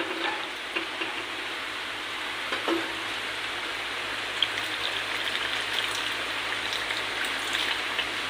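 Red amaranth sizzles steadily in a hot pan after hot water is poured in, giving an even rain-like hiss with occasional small pops throughout.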